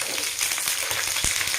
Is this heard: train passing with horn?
no